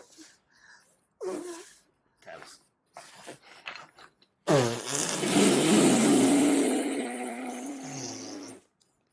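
Loud, sustained wet blowing noise from a mouth pressed against an arm, imitating a fart, lasting several seconds after some short bursts of talk and vocal noises.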